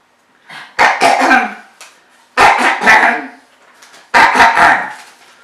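A person coughing in three close, harsh bursts, each a rapid cluster of two or three barking coughs separated by short pauses.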